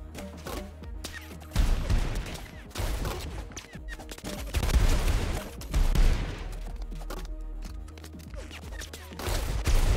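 Rapid video-game gunfire erupts in repeated loud bursts and volleys during a head-to-head duel, with heavy thumping impacts between shots and little pause across the stretch.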